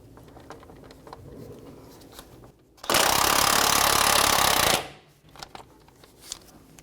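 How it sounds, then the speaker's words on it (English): An impact socket tool rattles loudly for about two seconds, loosening the top nut on the outer tie rod end of a 2011-2017 Honda Odyssey, with a 17mm socket. The burst stands out sharply against quiet garage ambience. "we're going to remove the top nut on the outer tie rod end"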